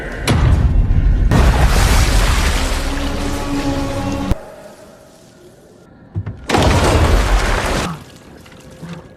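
In a dinosaur-era film, a cryo chamber smashes and explodes with a loud, roaring blast and crackling debris, then a sharp crack and a quieter lull before another heavy burst of rumbling destruction.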